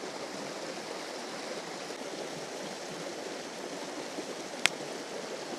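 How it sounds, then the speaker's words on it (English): A stream of running water flows steadily and evenly beside a campfire in Norway, a constant close wash of water with one brief sharp click near the end. "Just sitting here by the running water and the crackling fire."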